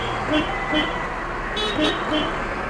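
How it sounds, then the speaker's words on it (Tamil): A car horn toots in short repeated beeps over steady road and engine noise, with a voice speaking nearby. "ஹார்ன் அடிச்சுட்டு"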